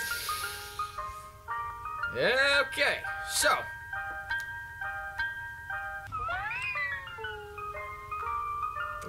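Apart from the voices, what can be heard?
ice cream truck music in video game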